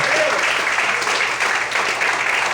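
A church congregation claps loudly and steadily throughout, a dense wash of applause with a faint voice underneath.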